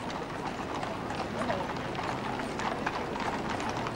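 Horses' hooves clip-clop steadily and densely on the road during a 1997 funeral procession at Hyde Park Corner in London, a continuous mass of hoofbeats from a team turning with a carriage.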